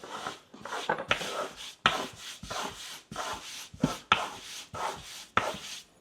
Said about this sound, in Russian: Разрезаем их пополам